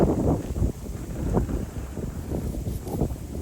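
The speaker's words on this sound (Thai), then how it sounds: "ลมเริ่มแรงแล้วนะคะ อากาศก็เย็นนะคะเรียบร้อย" Strong, cold wind gusts buffet the microphone outdoors in rural northeastern Thailand, a loud continuous low rumble that surges and eases without pause.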